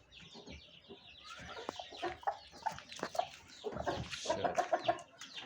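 A hen laying eggs clucks repeatedly up close, a run of rising, rhythmic cackles that grows louder and busier toward the end, with faint farmyard rustling around it.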